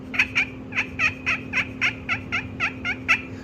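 A rapid series of about a dozen short, raspy yelps from a turkey pot call worked with a striker, evenly spaced and close, over a low steady hum.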